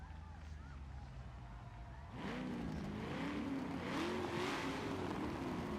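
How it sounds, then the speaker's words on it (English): Several drift cars rev their engines before a Long Beach drift battle, a loud, rising engine roar that swells at about two seconds and holds steady, with a hum beneath. "Drivers, rev up to know that you're ready."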